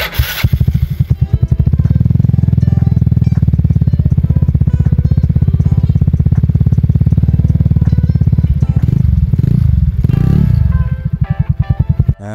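A 2010 Yamaha Mio scooter fitted with an NSR aftermarket exhaust runs up close, its single-cylinder engine thumping in a loud, rapid, even pulse before a few blips of the throttle near the end.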